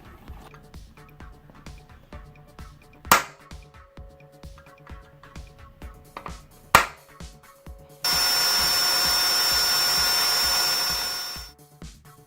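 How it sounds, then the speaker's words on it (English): A power drill whines steadily for several seconds near the end, drilling out a sheared bolt on a Forester, after a stretch of quiet tapping and a couple of sharp metallic clicks. "So the next attempt is to drill it out."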